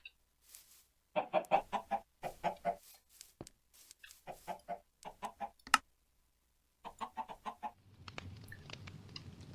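Minecraft chickens cluck in short repeated bursts, several clustered runs of clucks close by with brief pauses between, followed by a softer rustling bed of game ambience at the end.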